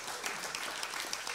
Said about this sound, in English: So give them a round of applause for getting together.